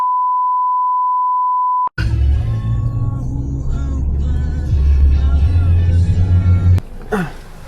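A Honda Wave100 motorcycle engine runs at idle, a low steady rumble close by, after a long electronic beep tone and a click. Voices can be heard.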